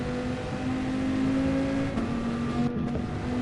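Dodge Viper engine in Gran Turismo Sport during a daily race, a steady droning engine tone that steps in pitch around the midpoint as the car shifts up.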